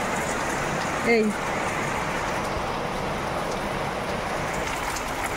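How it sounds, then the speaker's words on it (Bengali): Evening rain falls outside in the Sundarbans, a steady, even hiss of drops on surfaces. A voice speaks briefly near the start. "সন্ধ্যাবেলা বৃষ্টি এসে গেল, বাইরে বেরোবো, বাজারে যাব, এই বৃষ্টি মাথায় এখন ছাতা নিয়ে বেরোতে হবে।"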